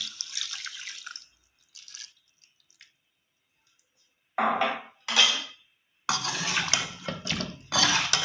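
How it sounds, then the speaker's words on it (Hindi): Water splashes and pours into a pan of chicken with ginger-garlic paste in a couple of bursts, with a hissing sizzle and clatter of cookware nearby. "हाफ कप के करीब हम इसमें पानी डाल देते हैं।"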